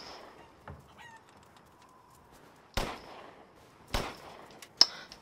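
Chickens cluck and squawk in the Resident Evil Village video game, a few sharp clucks scattered among loud gunshots, with quiet stretches in between.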